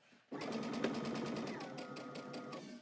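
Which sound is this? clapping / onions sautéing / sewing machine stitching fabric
sewing machine stitching fabric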